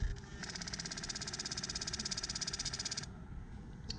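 Electronic throttle blades on a Suzuki GSXR1000 motorcycle cycle at key-on with a rapid, even buzzing whir that runs steadily for about three seconds, close and fairly quiet, then cuts off.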